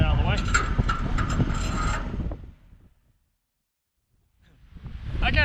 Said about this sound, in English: So we're just going to strop it down, hopefully hold it in place